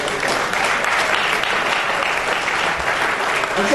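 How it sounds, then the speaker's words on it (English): Sustained applause from a large audience at a conference summit, steady dense clapping filling the whole stretch without pause. "Please another round of applause for Professor."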